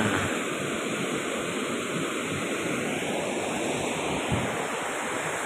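Continuous roaring rush of water flowing below a hanging bridge on the way to Dawara Falls, loud and unbroken throughout, with no voices over it.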